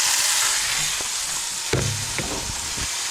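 Gammon frying in a pan gives a steady close sizzle and hiss for the whole stretch, with a few brief clunks and knocks of the pan or lid partway through.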